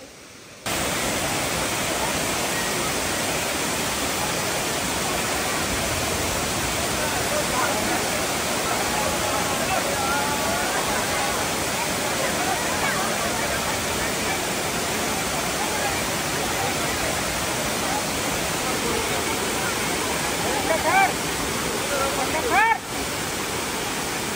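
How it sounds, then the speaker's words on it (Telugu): Tirathgarh waterfall in Kanger National Park, Chhattisgarh, pours in a dense, unbroken roar of falling water that fills the whole stretch at a steady, loud level. "పైనుంచి పడిన వాటర్ కొన్ని అయితే బ్రిడ్జ్ కింద నుంచి వెళ్ళిపోతున్నాయి"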